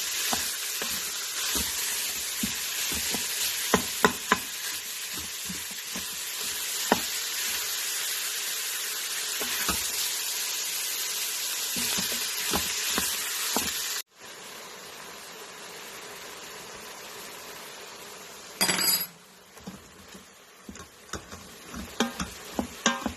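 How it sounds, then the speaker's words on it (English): Ground meat browning with onions and garlic in a pot for Zuppa Toscana: a loud, steady sizzle that runs on, with occasional clicks and stirring sounds, drops briefly to a quieter frying hiss, then returns. "I'm just going to let this cook until all the meat is brown"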